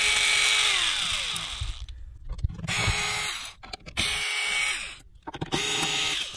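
A power driver backs screws out of an archtop guitar, with several whirring bursts that rise and fall, broken by short pauses and small clicks, close and fairly loud.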